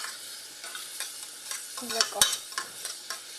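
Onions frying in oil for Ethiopian firfir, stirred with repeated scraping strokes over a steady sizzle, loudest toward the middle; one brief spoken word.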